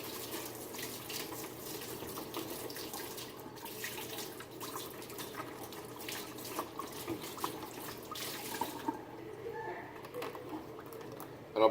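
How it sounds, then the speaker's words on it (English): Decontaminated instruments being rinsed under running distilled water, a steady faint splash and trickle that continues throughout and eases off near the end. "the next thing I'll do is rinse with distilled water."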